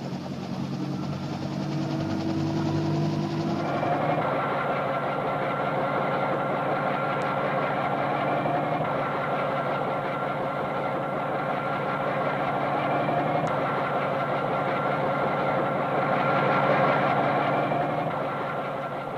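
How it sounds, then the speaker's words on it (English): President Kennedy's helicopter engine drones steadily and heavily nearby, a constant low rumble with a faint rhythmic throb that holds unchanged throughout. "The first stage of the journey is aboard President Kennedy's helicopter to the airport"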